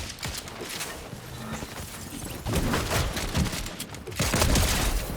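Rapid bursts of gunfire from the VR shooter game Fortnite Reload come in dense clusters, growing louder toward the end with short gaps between volleys.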